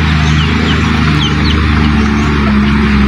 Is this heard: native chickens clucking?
yes